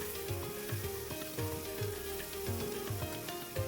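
Potatoes and flat beans with salt and turmeric sizzle steadily in an oiled pan while being stirred, with regular scraping strokes over a continuous close frying hiss.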